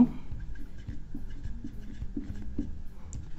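A maths solution for a trigonometry problem being written out by hand, with close, continuous scratching and tapping strokes of the writing tool in an irregular rhythm, no voice.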